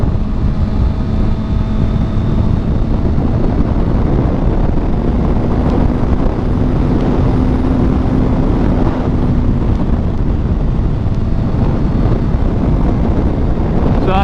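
A 600cc motorcycle cruising in fourth gear, its engine a steady loud drone buried under constant wind roar throughout, with no clear revving changes.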